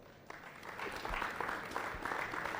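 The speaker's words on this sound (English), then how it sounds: "let's give these kids a round of applause" Audience at a youth meat goat show applauding the young exhibitors, a steady patter of clapping from a modest crowd with a few sharper claps, moderately near.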